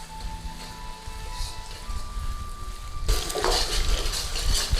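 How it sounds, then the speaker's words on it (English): Beef pieces stir-frying in a hot pan for a Chinese-style beef and mushroom dish, a steady broadband sizzle that grows louder and fuller partway through as the meat is stirred, with no talking. "And then in with our beef. Nice and gently, a nice stir fry."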